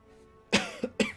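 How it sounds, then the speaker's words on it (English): Two sharp, close coughs in quick succession follow a brief quiet lead-in, the second slightly fainter than the first. "Sorry for the coughing."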